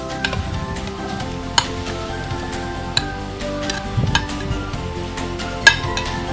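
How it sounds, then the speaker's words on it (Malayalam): Chopped tomatoes sizzle softly in a pan of sautéed onion mixture for egg biryani while a spoon stirs, with scattered sharp clicks and scrapes of utensil against metal over a steady low fry. "ഇനി നമുക്ക് തക്കാളി ഇതിലേക്ക് നമ്മൾ അരിഞ്ഞു വെച്ച തക്കാളി ചേർത്ത് കൊടുക്കാം"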